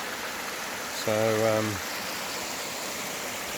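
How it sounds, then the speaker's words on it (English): A creek waterfall flowing after rain gives a steady, even rush of water all the way through, with a voice speaking briefly near the start. "We've had a bit of rain because the waterfall's flowing"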